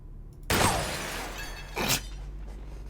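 A glass table shot in the video game Receiver 2 shatters in a sudden loud crash with a long tinkling spray of falling shards, followed by a second sharp burst of breaking glass.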